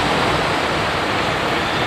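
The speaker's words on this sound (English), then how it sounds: "What you're looking at is the Atlantic Ocean and a seagull." Continuous broadband rush of Atlantic Ocean surf on a Rhode Island beach, steady and fairly loud, with no distinct breaks or voices.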